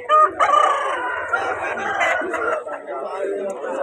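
At a Vijayawada market selling fighting roosters, a cock crows loudly nearby amid clucking fowl, with people talking over the birds.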